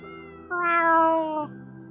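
A cat yowls in a game scene, one drawn-out, rising meow that swells loud in the middle and then falls away over a steady low background tone.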